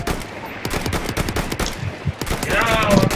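Rapid automatic gunfire in the video game Battlefield 1, loud bursts of rattling shots repeating throughout with a few sharper impacts near the end.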